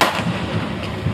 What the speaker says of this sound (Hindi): पटाखे छुटा है, पटाखे